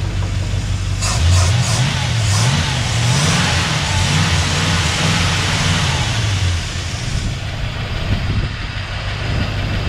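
A 1971 Oldsmobile Cutlass engine runs close and loud, holding a steady idle rumble with a brief rising and falling rev early on, then settling back to idle.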